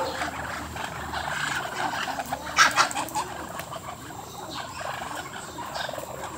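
Ducks quack and honk in a sequence of loud calls close by, with a brief louder burst in the middle, over steady outdoor background noise.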